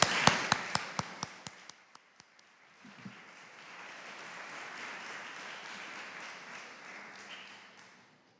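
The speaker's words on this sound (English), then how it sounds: "Please join me in applauding our artists and speakers." Applause from a lecture audience for artists and speakers: a few sharp, spaced claps fade out at first, then a faint, diffuse ripple of clapping swells softly across the room.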